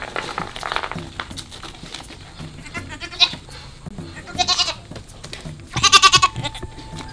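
A live goat bleats several times at close range, its wavering cries coming in short bursts between quieter farm-yard shuffling, with no talk over it.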